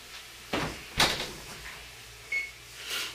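A home oven door set to 400 degrees is handled as a dish goes in, giving a couple of soft thuds and a clunk, then a faint click, quiet and close in a kitchen.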